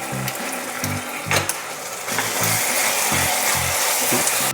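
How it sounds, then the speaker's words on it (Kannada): Ginger garlic paste frying in a pan for a mushroom biryani, a steady broadband sizzle running throughout with rhythmic low scraping knocks from stirring, close and fairly loud. "ಶುಂಠಿ ಬೆಳ್ಳುಳ್ಳಿ ಪೇಸ್ಟು ಹಸಿ ವಾಸನೆ ಹೋಗಬೇಕು, ಅಲ್ಲಿವರೆಗೂ ಚೆನ್ನಾಗಿ ಫ್ರೈ ಮಾಡಬೇಕು."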